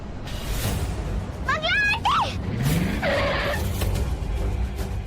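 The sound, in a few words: car braking and skidding to a stop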